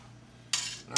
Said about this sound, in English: take them off of here, put them on my sheet pan here.